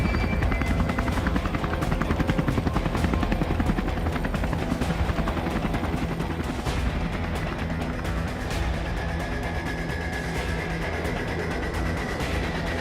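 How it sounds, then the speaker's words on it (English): A helicopter lifts off and flies away, its loud, steady rotor thump chopping close and constant throughout with no voices. "the helicopter lifts up and flies out into the sky"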